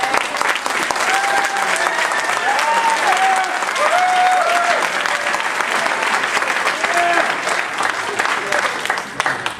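An audience at the 2010 Little–Pallone political debate breaks into sustained, dense applause that holds for several seconds, with voices faintly audible underneath.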